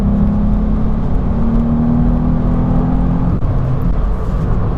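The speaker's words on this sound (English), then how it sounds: "the 3-cylinder engine has its own distinct tune, but it's kind of bolstered with this other noise" A three-cylinder car engine with a sound symposer hums steadily at a constant pace in third gear, with a droning tone layered over a low rumble throughout.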